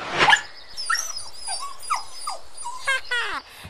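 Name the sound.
dog in a cartoon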